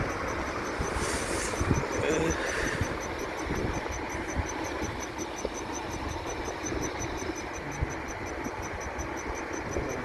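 A delivery motorbike engine idles at night in Dubai with a faint, steady low hum, soft and continuous against a quiet background hiss.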